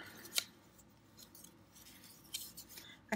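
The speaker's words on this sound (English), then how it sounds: "I'm actually going to tear it on this side." Paper page from a gardening book torn by hand, a brief crisp rip near the start and another short tear later, close and clear in a quiet room.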